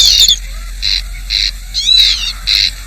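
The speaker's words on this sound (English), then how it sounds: "There is one bird who is firmly entrenched as part of island life, not least because of his unfailing art of making himself heard, the corncrake." A wild corncrake on a crofting island calls with a dry, rasping, repeated note, four or five evenly spaced grating bursts delivered loud and close with nothing else around them.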